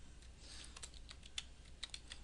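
Quiet clicking of a computer keyboard as a word is typed into an Excel 2007 cell, a short run of light keystrokes lasting about two seconds, close and with no talking.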